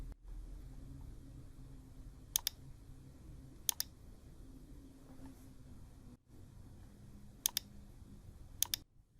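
Four quiet mouse clicks sound at irregular intervals over a faint hum during computer work, each a short crisp tick heard close and alone.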